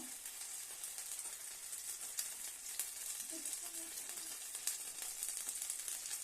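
Ukrainian potato pancakes (deruny) filled with meat frying in a pan, a steady soft sizzle and hiss throughout, fairly quiet and close, with no voices.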